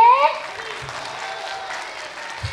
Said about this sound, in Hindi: नहीं रेडी, तालियां बताएंगी